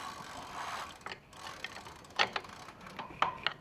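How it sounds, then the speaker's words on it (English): A pedal is threaded onto the crank of a Sobowo fat electric tricycle, giving close, faint ratcheting clicks and small metallic ticks in a short uneven series against a soft background hiss. "so you rotate the pedal to the left."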